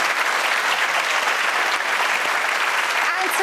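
An audience at the Rise Awards 2022 ceremony applauds in a dense, continuous wash of clapping that stays even and full throughout.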